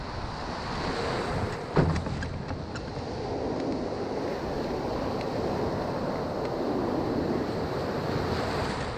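Ocean surf and wind wash steadily through a canoe game scene, a continuous broadband roar of waves with gusty wind rumble and one brief splash-like burst near the start, no talking.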